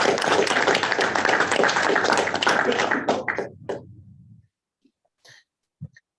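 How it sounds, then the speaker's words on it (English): A conference session audience applauds a speaker: dense, steady clapping from many hands that fades out over about four seconds, leaving a few faint taps and a small bump of noise. "Let's give Martina another round of applause"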